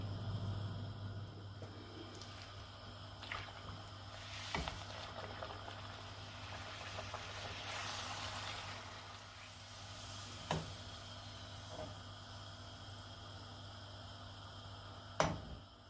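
Puri dough frying in hot oil gives a faint, steady sizzle and bubbling, with a few sharper crackles and pops, heard alone at low volume.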